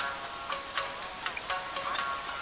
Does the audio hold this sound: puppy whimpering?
no